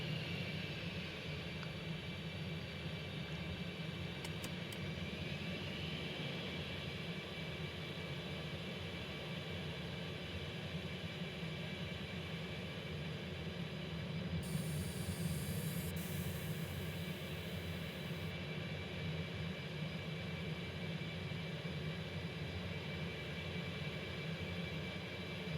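F-18 jet flying at low altitude in the X-Plane flight simulator: a steady, continuous engine roar and broadband rush that holds level throughout, with a brief brighter swell partway through and no voices.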